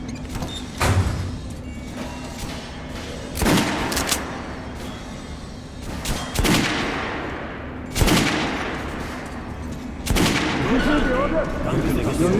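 Volley of gunfire in the shooter game Metro Redux, several sharp loud shots bursting at intervals over a steady hum and game noise, with voices heard in between.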